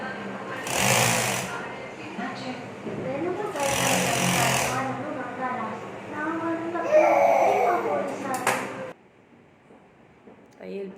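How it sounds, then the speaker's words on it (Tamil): Sewing machine stitching the lining of a lace-work blouse, a steady close mechanical whir in short runs, with a pause near the end. "இப்போ திருப்பி அடிச்சுட்டு நம்ம அந்த டிஸ்டன்ஸ் போட்ட இடத்துலையும் ஒரு தையல் போட்டுக்கலாம்."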